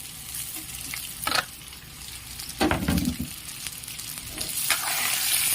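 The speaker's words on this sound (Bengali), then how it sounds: "দিয়ে এটা আমি ভেজে নেব, একটু হালকা করে ভেজে নেব।" Marinated Gobindobhog rice frying in a pan over a low flame for basanti polao, with a soft sizzle broken by a few scraping stirs, close and fairly quiet.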